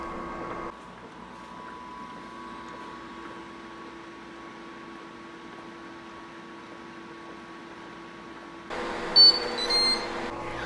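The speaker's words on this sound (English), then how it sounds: "this unit did just beep, which means that this milkshake is complete" A Ninja Slushi machine running in milkshake mode hums steadily, then gives a short burst of high, thin beeps near the end to signal the milkshake is done.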